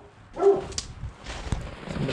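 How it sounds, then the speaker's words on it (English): A junkyard dog barks once, close and sharp, then gives fainter yips and whines amid outdoor rustle. "Junkyard dog."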